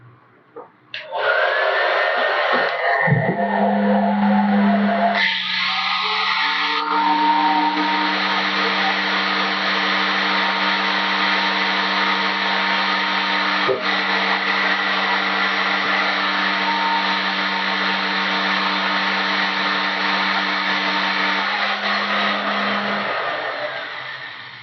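An angle grinder powered by a 100 Ah LiFePO4 battery generator spins up after a few brief clicks and bumps, then holds a loud, steady high-pitched whine with a constant motor hum for about twenty seconds before winding down.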